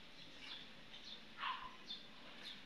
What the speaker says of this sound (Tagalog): mga tunog ng mga ibon, huni ng mga ibon